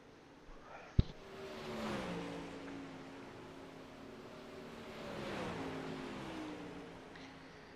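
Racing car engines in a racing video game whine and rev up and down at a distance, two swells of engine noise after a brief sharp click, with no talking.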